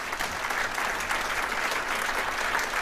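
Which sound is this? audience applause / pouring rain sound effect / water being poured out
audience applause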